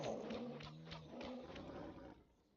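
A tiger roars in a Minecraft server game, one loud, rough, sustained growl that tapers off into quiet after about two seconds.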